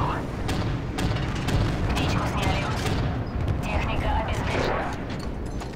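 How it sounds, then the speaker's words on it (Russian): Loud, dense rumbling explosions and crackling blasts from Call of Duty: Modern Warfare 3 fill the clip continuously, a heavy battle roar with no pause. "Бум, сейчас такой взрыв будет."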